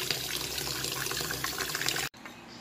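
Tap water runs steadily into a sink while white cabbage is being washed in a home kitchen, a loud continuous gush that cuts off abruptly near the end, leaving faint room noise.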